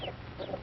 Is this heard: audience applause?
no